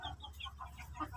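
A Shamo brooding hen and her chicks give faint, soft, rapid clucks and cheeps, a short run of about six quick calls close by.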